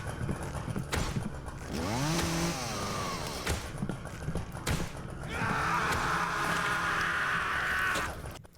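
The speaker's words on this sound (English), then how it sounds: "Chainsaw versus man. Turns out, chainsaw wins." A chainsaw in the horror video game Deathbloom revs up in a rising, whining sweep, then settles into a loud, sustained buzzing drone, with heavy thuds and clatter breaking in between.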